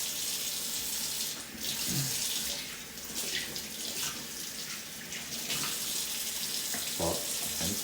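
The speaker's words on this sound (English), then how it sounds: "I'm going to take one piece of paper to open the faucet" Water runs steadily from a faucet into a sink during hand washing in a pharmacy technician skills demonstration, a continuous hiss and splash at moderate distance with slight shifts as the hands move under the stream.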